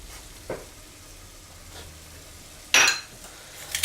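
Apple dropped into a hot frying pan: faint sizzle under a quiet kitchen background, with a soft clink early on and a sharper burst of sizzling and clatter near the end.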